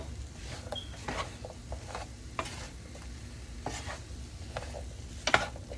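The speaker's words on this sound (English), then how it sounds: "continue to stir to make sure you get the seasoning on every single sweet potato" Sweet potatoes coated in olive oil and seasoning are stirred in a bowl, making close, irregular scraping and tapping strokes with occasional sharper clicks over a quiet background.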